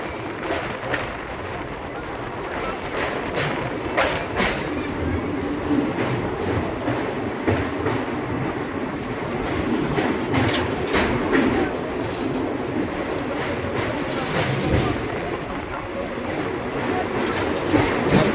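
A passenger train rumbles and clatters steadily across the Kolaghat rail bridge over the Rupnarayan River, with rhythmic wheel clicks and metallic rattling continuing for the whole stretch.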